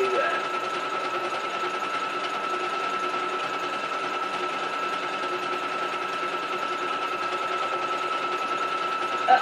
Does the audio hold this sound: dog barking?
no